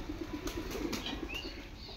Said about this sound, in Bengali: ওই দেখ আমাদের পায়রা সব মিটু।